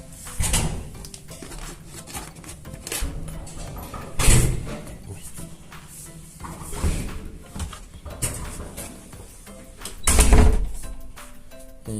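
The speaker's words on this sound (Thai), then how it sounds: "เราต้องรอ10วิเพื่อที่จะเปิดประตู ออกไปหยิบอาหารเข้ามาเนาะ" A door opening and closing as food left outside during a quarantine stay is collected, with a few sharp knocks and thuds standing out against a quiet room.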